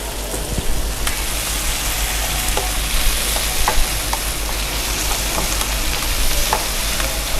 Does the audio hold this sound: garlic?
yes